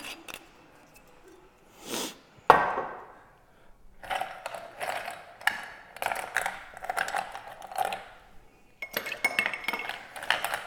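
Ice clinking into a glass while a Sazerac is built, a series of bright clinks and rattling knocks in bursts, close and fairly quiet, with short pauses between clusters.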